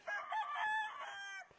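A fighting rooster bred for gaff competition crows once near the mic, a clear, strained cock-a-doodle-doo lasting just over a second against quiet background.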